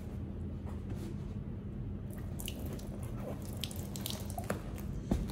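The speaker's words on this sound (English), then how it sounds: "The water bead up and roll off." Water poured over water-repellent outdoor furniture fabric on brushed aluminum patio furniture, beading and rolling off with soft trickling, dripping and splashing close by, irregular little drips and patters over a steady low background hum.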